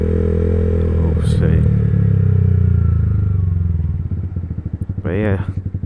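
Red 60-plate Yamaha YZF R125 motorcycle idling close by with a steady low engine drone that turns into a choppy, pulsing putter toward the end, while someone talks over it.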